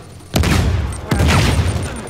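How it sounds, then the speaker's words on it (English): Grenade blasts in the Uncharted 4 video game, two loud booming explosions a second apart with a rumbling tail after each, heard close with no speech over them. "I'm gonna strike him with some grenades."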